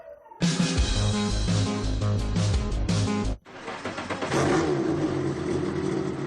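A Renault Clio rally car fires up and revs hard, a loud, close engine roar that drops off briefly partway through before climbing into another sustained rev.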